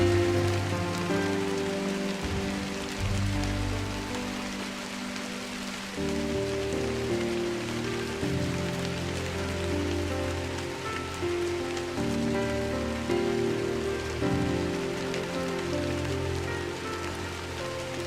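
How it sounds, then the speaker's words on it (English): Light drizzle falling in the video game Drizzlepath, a steady soft patter of rain on surfaces throughout, with a calm musical drone underneath. "I woke to a morning of light drizzle"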